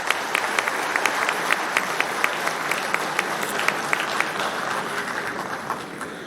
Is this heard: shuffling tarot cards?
no